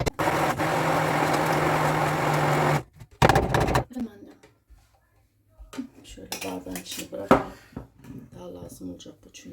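Cake batter for a mole cake is whisked in a bowl with a steady whirring rush for about three seconds, followed by clatter of the bowl and utensils and a quieter stretch where people talk.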